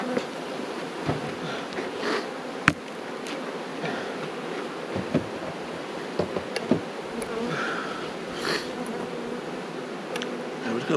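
An agitated honeybee colony buzzes loudly and continuously up close as hive boxes are handled during a move, with occasional sharp knocks and clicks.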